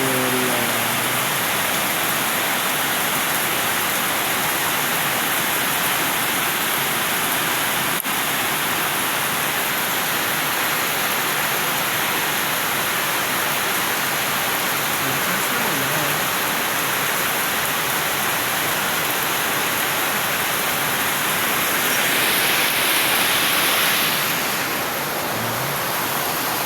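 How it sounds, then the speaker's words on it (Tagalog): Steady, dense rainfall hisses continuously for the whole stretch, a heavy downpour with no pauses and no voices. "Diba narinig niyo ba ang lakas ng ulan?"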